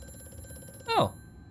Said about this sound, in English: Just a casual phone in the middle of nowhere.